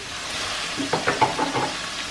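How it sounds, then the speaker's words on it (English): Raw prawns sizzle in a hot pan alongside onion and garlic, a steady close frying hiss with a few soft scraping stirs and light clinks partway through. "So it's just frying up the prawns now because they were obviously raw prawns."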